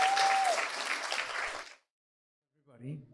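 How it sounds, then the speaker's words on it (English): Audience at a Hindu religious gathering applauds a pandit, a thick burst of clapping with a brief steady tone at the start, cutting off into silence before a voice begins speaking. "Give him another round of applause."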